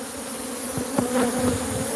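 Dense, continuous droning buzz of a large mass of bees, tens of thousands packed inside a hive, steady and close with a few louder individual passes near the end.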